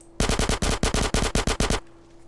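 Fast automatic M4 rifle fire in the DayZ video game, a loud rapid burst of about a dozen sharp shots in quick succession that cuts off abruptly, with no talk.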